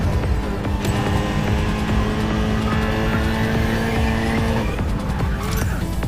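Racing car in a mobile racing video game powering through a corner, its engine droning steadily with tire squeal and skidding layered over it, loud and continuous throughout, with game music underneath.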